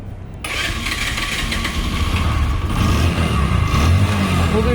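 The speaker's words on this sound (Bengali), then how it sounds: "বাইকটি যদি আমরা স্টার্ট দিয়ে দেখি," A Bajaj Discover 100cc motorcycle engine starting up, catching after a brief silence and then idling steadily and loudly close by, with a slight rise in revs near the end.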